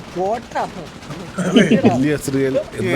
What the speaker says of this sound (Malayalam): എല്ലാ രീതിയിലും വെടിവെടിയാണ്